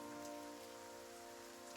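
Rain falling as background ambience during a tabletop role-playing session, a soft steady patter heard faintly with sustained melodic tones running underneath.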